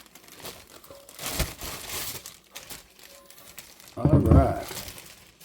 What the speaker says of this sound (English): let's pull this thing out of the plastic.